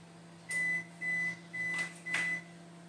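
A Singer microwave oven finishing its cycle: four short, evenly spaced electronic beeps sound over a low steady hum in a quiet kitchen.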